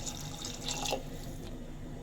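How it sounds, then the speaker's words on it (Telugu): Water trickles and splashes briefly into a pot of chopped vegetables for horse gram sambar, a short light pour that fades into quiet background noise. "ముక్కలు మునిగేంత వరకు నీళ్లు పోసుకుందాము."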